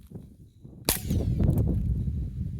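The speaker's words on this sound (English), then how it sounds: "All right, now we have the birdshot rounds." A single sharp gunshot from a .22 rifle firing birdshot at a board and box, loud and abrupt after a quiet moment, followed by a rough, ringing tail of ambient noise.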